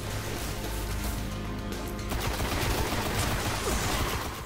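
Rapid gunfire crackles in dense, continuous volleys in the PS4 video game Destiny during its first mission, loud and steady throughout.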